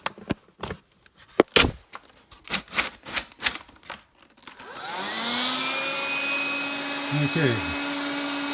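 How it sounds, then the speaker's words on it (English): A run of clicks and clatters comes first, then a vacuum cleaner switches on, its motor whining up to a steady loud hum that holds to the end. "the vacuuming."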